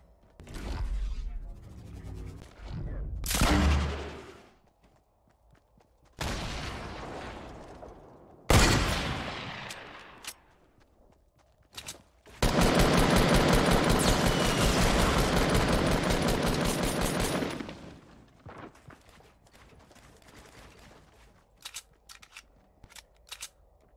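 Gunfire in the Fortnite video game, several sharp loud cracks separated by silences, with a long sustained rattling burst in the middle and scattered shorter shots at the end.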